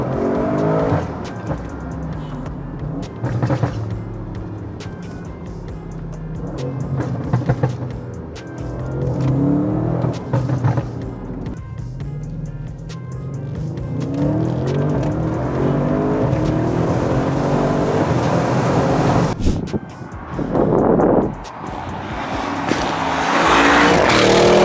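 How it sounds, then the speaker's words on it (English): Audi RS6 with bolt-on upgrades revving hard, its exhaust loud and close with crackles and pops between throttle blips, plus sharp bangs near the end. "I just want to show you how loud the crackle and pop sound in this car"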